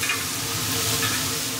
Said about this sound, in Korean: 처음부터 김치도 같이 구워주네요